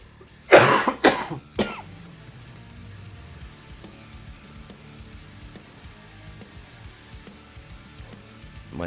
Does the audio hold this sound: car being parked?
no